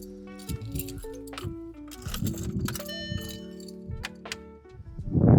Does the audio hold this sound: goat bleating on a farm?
no